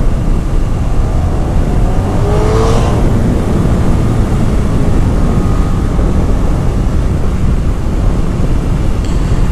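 Honda VFR1200F motorcycle riding, a loud continuous engine drone mixed with heavy wind rush, the pitch briefly shifting early on as it changes gear.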